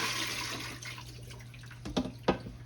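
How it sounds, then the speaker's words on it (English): Water from sliced potatoes runs off through a colander into a sink, a faint steady trickle followed by two brief louder splashes near the end. "So what I'm gonna do, I'm gonna drain them here in my colander."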